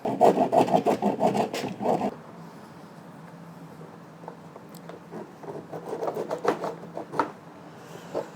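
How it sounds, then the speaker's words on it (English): A hacksaw blade cuts through the plastic rear bumper of a 2015 Golf Sportwagen, starting with a quick burst of loud rasping strokes, then fainter, intermittent scraping. "to do most of the cutting with this hacksaw blade"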